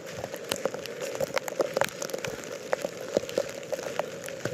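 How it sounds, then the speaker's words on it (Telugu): Rain patters steadily on a mountain trail near the Yamunotri river, with scattered close drops striking surfaces over a constant wet hiss throughout. "వర్షంలో నడుస్తుంటే ఆనందంగా భలే ఉందండి."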